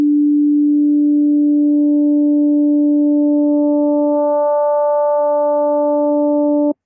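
A sustained FM synthesizer tone from the IceWorks Nambu AUv3 plugin holds a steady pitch while operator modulation levels change, so bright overtones fade in partway through; the note is loud and clean and stops abruptly.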